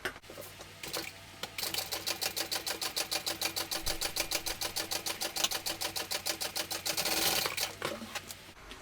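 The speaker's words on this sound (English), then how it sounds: "Let's top stitch that down." Sewing machine top stitching a seam on a small fabric project, a steady rapid needle clatter running for several seconds, close and moderately quiet, with a brief start and a slight speed-up near the end; no talking.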